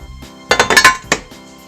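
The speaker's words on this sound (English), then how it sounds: "you're going to spray your glass pan" Glass baking pan clinking and clattering as it is handled in a home kitchen, a quick burst of several close hard knocks followed by one more clink, with no talking.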